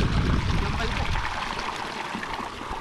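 Strong stream of drinking water gushing from a supply pipe outdoors, a steady broad rush that is loud and close, then easing slightly; voices can be heard nearby.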